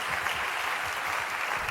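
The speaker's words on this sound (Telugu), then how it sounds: "చప్పట్లు కొట్టి ప్రభు నామమున మహిమపడదాం." A church congregation claps together during a sermon, a steady wash of applause that fills the whole space and continues without a break.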